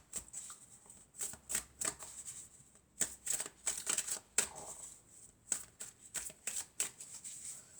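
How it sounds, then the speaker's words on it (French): Oracle cards shuffled by hand in repeated short, papery riffling bursts with brief gaps, close and moderately quiet, with no talking. "on va prendre quelques cartes de l'oracle de la triade"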